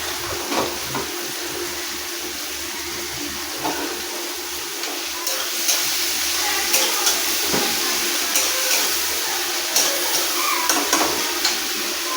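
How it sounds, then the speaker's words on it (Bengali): Potatoes frying in a pan give a steady, broad hiss that swells slightly midway, with faint occasional clinks and stirring, heard close and alone without speech. "হচ্ছে আলু ভাজা।"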